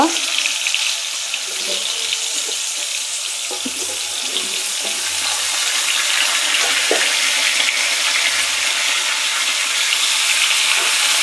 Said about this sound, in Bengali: এই তেলের মধ্যে দিয়ে দিচ্ছি এঁচোড়টা একটু তেলে ভেজে নেব